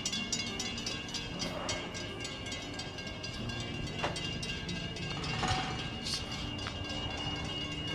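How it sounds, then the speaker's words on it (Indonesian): A train rolling past in the harbour area of Fremantle, Australia, a continuous low rumble and rattle of wagons held at a moderate, steady level with occasional brief higher squeals and no voices. "Ada kereta mau lewat."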